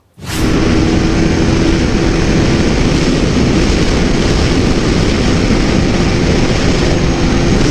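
A KTM Super Duke GT motorcycle at speed, with a loud, steady engine and rushing wind roar that sets in abruptly and holds unbroken for several seconds.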